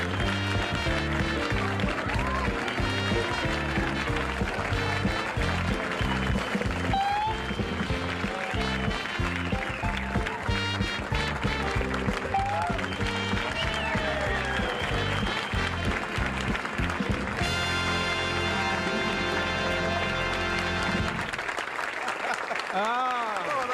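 A studio audience claps and cheers for Colonel Sanders with continuous, dense applause. Music plays beneath it and cuts off abruptly near the end.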